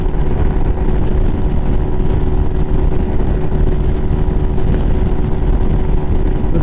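A Lifan KPM 200 motorcycle in sixth gear, its engine held at 9,300 RPM, gives a loud, steady high-revving drone with a constant tone and rushing wind, unbroken throughout.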